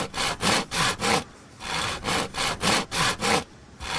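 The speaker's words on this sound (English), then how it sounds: "here we are filing the nails" A nail file rasps across a possum's nails in about ten quick, rhythmic back-and-forth strokes, close and fairly loud, with a couple of brief pauses between bursts.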